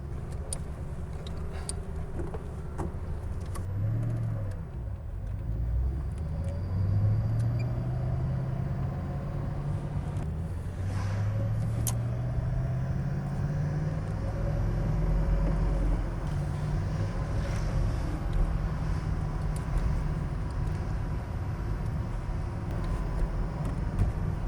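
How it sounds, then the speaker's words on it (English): A Tatra 613 car with its air-cooled V8 engine driving, a steady low engine drone with rising and falling pitch as it moves through the gears, continuous and fairly loud without speech. "Let's see how it feels to drive a Tatra."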